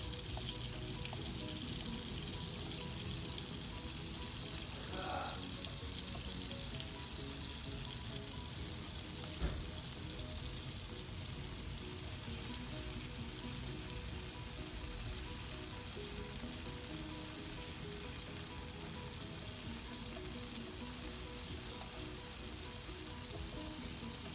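Tomatoes fry in a pan, a soft, steady crackling sizzle heard up close and continuous, with a brief clatter partway through.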